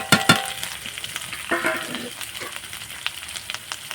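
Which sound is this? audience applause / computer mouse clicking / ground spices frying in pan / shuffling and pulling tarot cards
ground spices frying in pan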